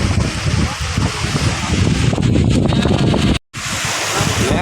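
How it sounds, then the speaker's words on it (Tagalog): Strong monsoon wind off Manila Bay batters the microphone with loud, roaring gusts over crashing surf and sea noise, a constant rumbling buffet broken by one brief cut-out. "lakas ng hangin mga kapisi"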